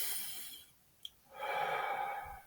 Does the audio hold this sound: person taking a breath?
yes